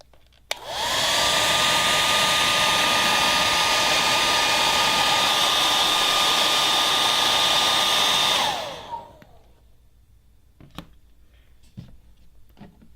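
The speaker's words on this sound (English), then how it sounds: "use either a heat gun or a hairdryer to warm the damaged area until it is very warm" A hairdryer runs at a constant loud whine for about eight seconds while warming damaged plastic before a pinhole repair, then spins down, leaving faint handling clicks.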